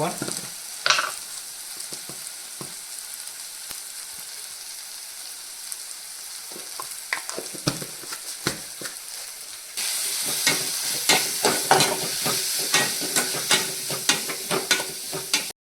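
Snails gathered from the wild frying in a spicy masala, a steady close sizzle with scraping stirring strokes that grows louder and busier toward the end, no voices.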